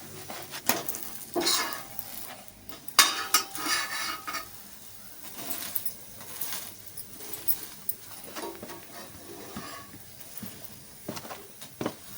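Bobbatlu flatbread fries in ghee on a pan, a soft sizzle broken by bursts of scraping and stirring with a spatula and occasional clinks of metal, close by and without speech.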